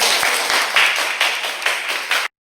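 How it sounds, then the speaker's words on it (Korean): Audience applause at an equal-education parents' meeting in Cheonan, a steady, dense round of clapping filling the room for about two seconds before cutting off abruptly. "큰 박수로"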